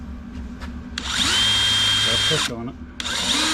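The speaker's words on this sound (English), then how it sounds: "I'm going to drill a hole through this." A power drill bores a hole through a plastic battery box for an ice fishing and camping power station, a sustained whine starting after a second, pausing briefly, then resuming, with someone talking nearby.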